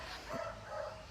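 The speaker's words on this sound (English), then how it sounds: "So I apologize for the barking in the background." Several dogs bark in the background, a faint, muffled burst of barks and yips spread across a short stretch at low level.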